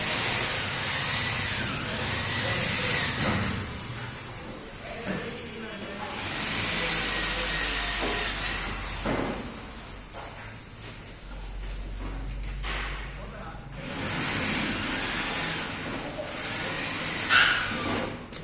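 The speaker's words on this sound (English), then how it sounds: "Start the machine. Fan on. Condenser fan on. Step motor on. Cycle start on." A willow mat processing machine powers up as its fans, condenser fan and step motor switch on, giving a broad hissing, whooshing roar that swells and fades in stages with a low motor hum, while someone speaks over it.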